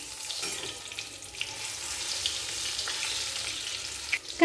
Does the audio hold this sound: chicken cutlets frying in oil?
yes